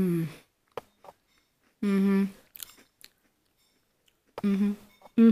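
Panda-shaped Japanese snack being bitten and chewed up close, with crunchy bursts separated by quiet pauses and short bits of speech between bites.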